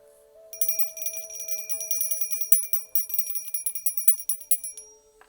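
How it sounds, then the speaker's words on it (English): A small metal bell rung repeatedly during a meditative tarot session, bright ringing strikes in quick succession with shimmering overtones that sustain and overlap, fairly close and alone with no talking. "And let me ring the bell."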